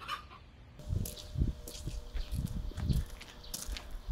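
Chickens kept in a mesh-covered backyard coop cluck in short, repeated bursts at close range, with a few scratchy movement sounds between calls and no talking.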